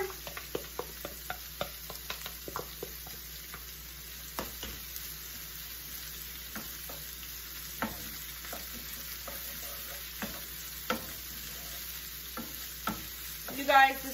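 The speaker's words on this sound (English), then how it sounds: "Then we want to stir in the ginger." Ginger being stirred into a sizzling dish in a frying pan at home, a steady soft sizzle under repeated scraping and tapping of the spoon against the pan, quiet and close with no talk.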